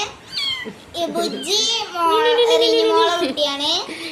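Kittens meow again and again in high, wavering cries close to the listener, forming a near-continuous plaintive chorus with no talk over them.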